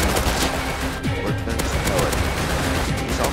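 Dense, rapid automatic AK rifle fire in the video game Rust, loud and continuous with overlapping bursts and clattering shots throughout.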